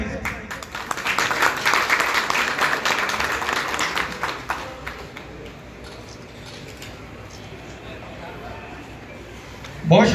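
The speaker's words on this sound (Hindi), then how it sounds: "आप सबकी भरपूर तालियां" Audience applause greeting Ustad Shahid Sai as he takes the stage at a rasm-e-ustadi shagirdi ceremony, a dense wash of clapping that is strongest early and fades over the middle, with a crowd murmuring under it.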